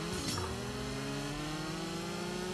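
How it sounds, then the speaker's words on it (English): In the CSR2 drag-racing game, an opponent's car engine drops briefly, then climbs again in a smooth rising whine after a gear change. The engine is loud and continuous, with no talking. "I hear him shifting his gear, so he's in fourth gear right now"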